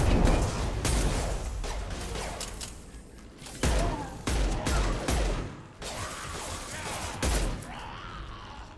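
A series of heavy, booming hand cannon gunshots in the video game Mass Effect 2 Legendary Edition fires in irregular bursts, each blast sharp and loud with rumbling tails and clattering action between them.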